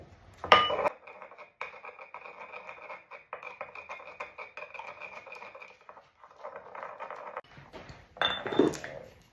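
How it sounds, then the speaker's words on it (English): A spurtle stirs a Dijon mustard mixture in a bowl with a rapid, rhythmic patter of scraping and light clinks. Louder knocks come at the start and end. "I'm gonna stir that together with my spurtle"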